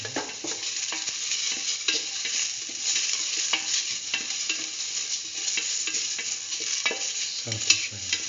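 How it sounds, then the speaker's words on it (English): Shallot pieces fry with a spice mixture in a pan for curried mustard chicken in coconut milk, a continuous close sizzle punctuated by frequent light clicks of stirring, with a brief low thump near the end. "Saute shallot pieces and the rest of the mixture."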